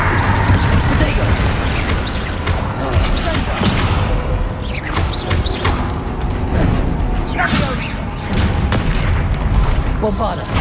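Spell explosions from Hogwarts Legacy on hard mode, repeated deep booms and crashes layered over busy combat noise, loud and continuous, with a voice calling out under the blasts.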